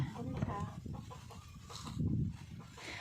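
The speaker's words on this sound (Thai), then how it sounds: "โอ้ยไก่เข้าสวนหนูนะพี่จ๋าไล่ให้หนูหน่อย" Chickens clucking in a home vegetable garden on a Thai farm plot, a mix of close, fairly loud clucks and rustling that swell near the end, with faint background voices.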